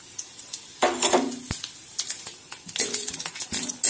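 Dry red chillies, panch phoron and whole cumin hit hot mustard oil in a pan, giving bursts of crackling sizzle with scraping stirs and light utensil clinks, loud and close with no talk.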